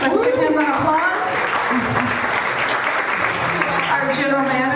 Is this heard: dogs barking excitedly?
no